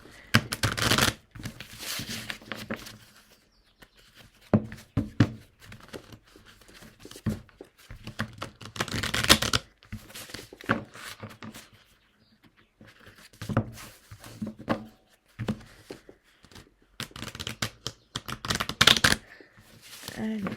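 Oracle cards shuffled by hand in repeated bursts of soft riffling and flapping, close and clear, separated by brief pauses with no talking.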